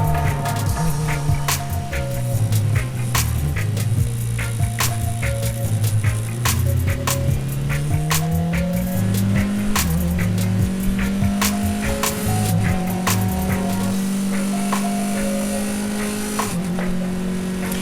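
A Formula Ford race car lapping Circuit of the Americas, its engine droning loud and close with rising pitch as it accelerates, gear changes shifting the tone, and sharp clicks and rattles throughout.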